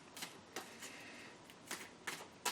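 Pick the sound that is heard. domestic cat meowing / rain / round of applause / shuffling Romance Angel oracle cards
shuffling Romance Angel oracle cards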